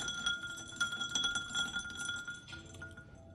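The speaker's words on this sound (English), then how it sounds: "So, for my tequila sunrise, I always stir it up." Spoon stirring a tequila sunrise in a drinking glass, giving repeated bright clinks and taps against the glass over a few seconds, close and fairly quiet with a low room hum underneath.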